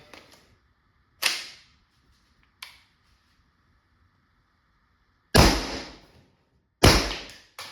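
A Valken M17 paintball marker fires FAR projectiles in four sharp, loud pneumatic shots at uneven intervals, each followed by a short decaying ring, with quiet gaps between them.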